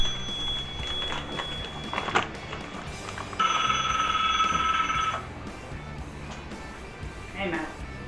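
A telephone rings indoors with a bright, sustained electronic trill lasting nearly two seconds, surrounded by clattering handling noises and people talking nearby.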